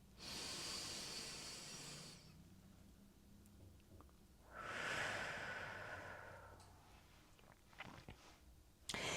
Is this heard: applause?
no